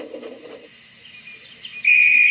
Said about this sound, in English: Oh, that's my conductor's whistle.